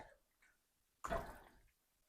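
Soup bubbling in a pot while cooking in a home kitchen, a short burst of wet, gurgling liquid sound lasting about half a second, with faint quieter sounds around it.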